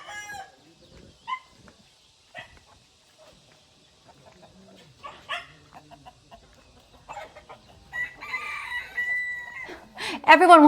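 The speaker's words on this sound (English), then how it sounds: "This particular rooster belonged to my next door neighbor, and it was always messing up my audio" A next-door neighbor's rooster crows in short bursts, loudest near the end with a long harmonic cock-a-doodle-doo, amid scattered clucks and faint background sounds.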